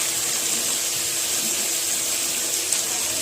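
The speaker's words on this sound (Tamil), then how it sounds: "கொஞ்சமாக தண்ணி சேர்த்துக்கலாம்" Water is poured into a pan of sautéing arai keerai (amaranth greens), giving a steady, close rushing hiss that holds at an even level throughout with no voices.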